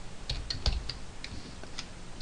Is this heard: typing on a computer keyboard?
yes